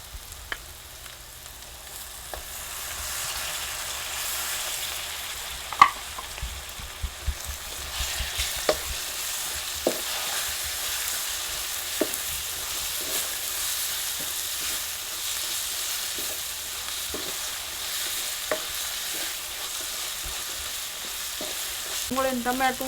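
Masala pigeon peas with tomato sizzle gently in a pan while being stirred, a steady frying hiss broken by scattered scraping clicks of the spoon.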